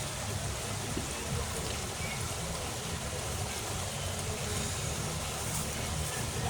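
River stream flowing steadily at a Bulacan riverside, a continuous broad rushing wash of water with low rumble, even and unbroken throughout, with no clear voices.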